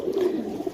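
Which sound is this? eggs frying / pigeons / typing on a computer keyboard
pigeons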